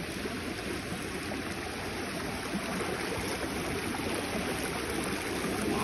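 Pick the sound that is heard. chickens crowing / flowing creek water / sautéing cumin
flowing creek water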